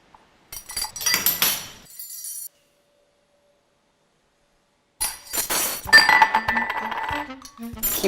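Metal forks clink and rattle against a glass cup in two close bursts of bright chiming and scraping, separated by a few seconds of silence, with no talk.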